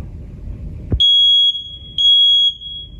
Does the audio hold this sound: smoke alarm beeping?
yes